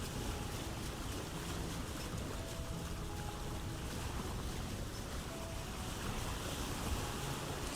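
Small sailboat in the Vintage Story game gliding over open water, with a steady wash of waves and wind blowing continuously throughout, no talking.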